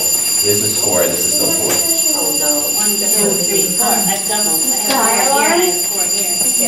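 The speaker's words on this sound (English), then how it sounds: "that's the elevator being held open too long" An elevator alarm buzzes because the door has been held open too long, a steady high-pitched tone running without a break beneath people talking and counting aloud.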